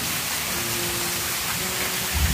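Rain falling steadily on a new-build housing construction site cleared among trees, a dense hiss of drops with a faint hum, ending in a louder patter.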